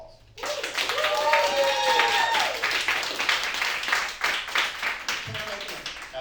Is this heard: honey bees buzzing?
no